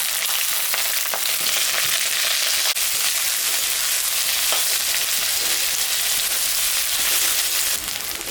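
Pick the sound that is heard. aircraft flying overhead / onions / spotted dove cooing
onions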